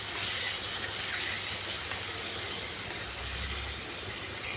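Steady, dense sizzle and hiss of mango and tomato frying in hot oil with panch phoron and dried chilli, close and continuous with no talk.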